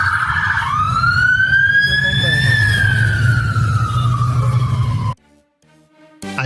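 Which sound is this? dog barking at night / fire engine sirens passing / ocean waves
fire engine sirens passing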